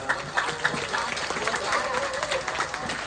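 A concert audience at a show in Sriracha gives loud closing applause, a dense patter of many hands clapping steadily throughout with some faint voices in the mix.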